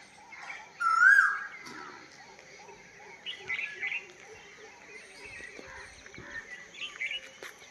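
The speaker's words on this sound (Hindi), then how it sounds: "आपको कोई ना कोई पक्षियों की आवाज़ सुनाई दे रही होगी।" Birds chirp near a village mango tree: one loud, close call stands out early, followed by fainter scattered chirps amid distant children's voices and rural background sounds.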